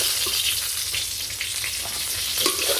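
Eggplant slices fry in a pan, giving an even, continuous sizzle close by with scattered crackles and a couple of brief stirring knocks, with nobody speaking.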